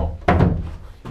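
A treehouse door thumps shut with a short, close knock, followed by a quieter second bump about a second later.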